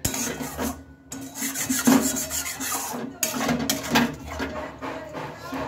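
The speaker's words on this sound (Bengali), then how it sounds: "এবার মশলাটা ভালোভাবে কষিয়ে নিতে হবে।" Spice masala with chopped tomato is stirred and scraped around a pan for a soybean dish, a close, rhythmic scraping and rubbing with brief pauses and no talking.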